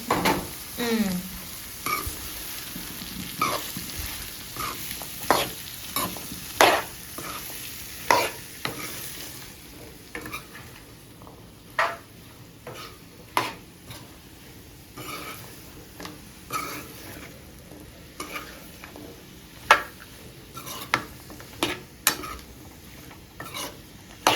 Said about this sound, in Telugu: ఇదిగో సొరకాయ కాయలు వేస్తాను.